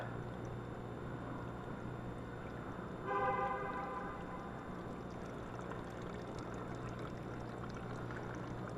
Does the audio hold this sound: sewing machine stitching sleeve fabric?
no